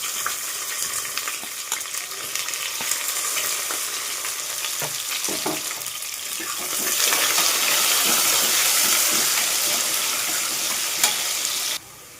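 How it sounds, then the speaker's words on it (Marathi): Whole spices, cumin, royal cumin and onion fry in hot oil, with a loud, steady sizzle, stirring clatter, and a hiss that swells in the second half before cutting off at the end. "तेल छान गरम झाले का गरम मसाले, जिरे, शाही जिरे, कांदा टाकून घेणार आहे."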